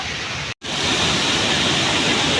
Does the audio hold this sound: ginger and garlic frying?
no